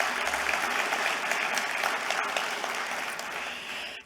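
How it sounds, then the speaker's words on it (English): Delegates at a national aged care provider conference plenary give the organisers a round of applause, a thick, continuous wash of clapping at steady volume that tapers off at the very end. "please give Janet and the team a round of applause and acknowledgement"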